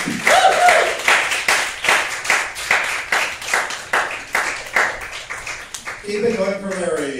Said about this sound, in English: Keep it going for Larry.